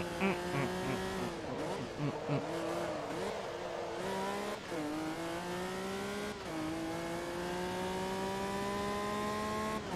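Race car engine in Forza Motorsport 2 revving through gear changes, with pitch climbing and dropping, over a brief stretch of tire squeal, continuous and fairly loud with no talking.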